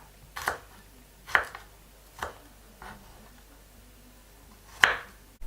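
A knife cuts garlic into large pieces on a board, five sharp, separate thuds at uneven intervals with quiet pauses between, close and alone.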